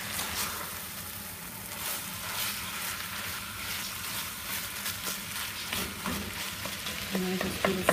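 Food sizzles and fries steadily in a pan while it is stirred and turned over, with scraping and tapping that sharpen toward the end.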